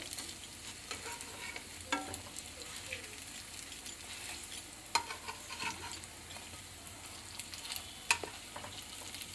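Sabudana vada, sago fritters, fry in hot oil and get flipped over with a constant soft sizzle, broken by occasional sharp clicks of a utensil turning them in the pan.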